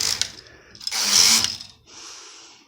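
A Brother KH 587 knitting machine carriage runs across two rows, giving a loud mechanical rushing swish, a brief pause, then a softer second pass, with no talk.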